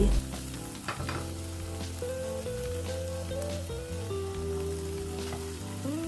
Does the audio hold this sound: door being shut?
no